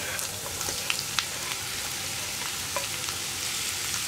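Chopped green chilli, ginger and onion sautéing in hot oil for an egg sandwich filling, giving a dense, continuous sizzle with scattered small crackles and pops, close and steady with no voices.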